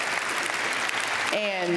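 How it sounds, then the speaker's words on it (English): Audience applause for the women's tennis team at a student-athlete graduation ceremony: steady, dense clapping from a large crowd throughout, with a voice starting to speak at the very end. "give them a round of applause"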